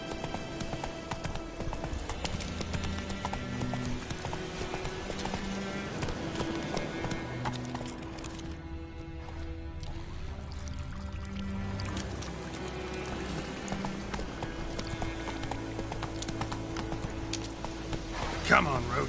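Roach the horse gallops in The Witcher 3 video game, a steady rhythmic clip-clop of hooves that runs throughout, with a voice speaking over it.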